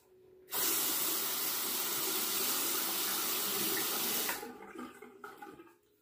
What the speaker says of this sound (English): And I will rinse the razor.